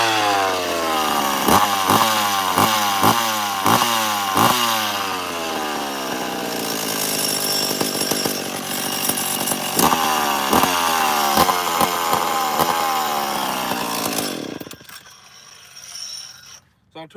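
Chainsaw running, started with repeated pulls and short revving bursts, then a sustained loud two-stroke drone that cuts off near the end, leaving quiet background.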